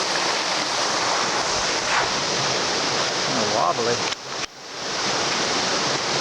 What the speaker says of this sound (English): This creek's real pretty.